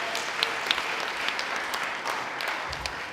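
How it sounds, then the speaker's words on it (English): Round of applause from a summit audience in a hall at a leadership conference, steady dense clapping throughout with a few sharper claps standing out, no voices. "Give him a round of applause"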